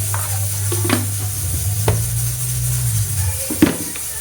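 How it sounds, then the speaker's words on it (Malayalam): Chicken with chilli powder and coriander powder sizzles steadily in a hot pan while a spoon stirs it, scraping in a few distinct strokes spaced about a second apart. "ശരിക്കും നന്നായിട്ട് ഒന്ന് ഇളക്കി"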